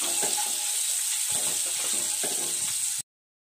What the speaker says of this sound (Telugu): ఎగ్స్ ఇలా లైట్ బ్రౌన్ కలర్ వచ్చేలాగా ఇలా రోస్ట్ చేసుకొని